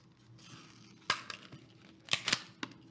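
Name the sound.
scissors cutting paper label off a mini bottle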